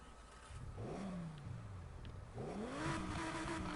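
The 612-horsepower 5.2-liter V10 of an Audi R8 in the racing game NFS Heat revs twice in short rising bursts. The engine snarls close and loud, with a brief dip between the two pulls.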